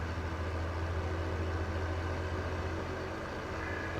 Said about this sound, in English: This tractor's starting to run like a dog.